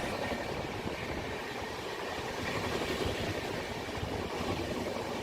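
Rajdhani Express passing at high speed alongside a fast Burdwan–Howrah local train, a steady dense roar of rolling wheels and rushing air holding loud and even throughout.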